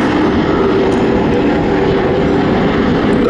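Airbus A350 development aircraft MSN2 flying a display at the ILA 2016 air show in Berlin, a loud, continuous engine roar close by that holds steady the whole time.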